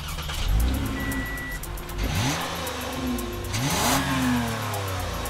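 A 2015 Toyota Camry XSE's 3.5-liter V6 revs up through several rising sweeps with gear changes between them, loud and close and heard alone.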